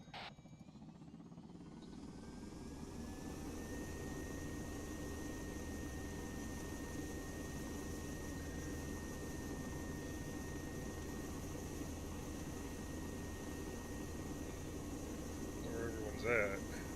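A helicopter engine in ArmA III spools up, its drone rising over the first few seconds into a steady, loud whine and rumble that holds throughout, with faint radio chatter underneath.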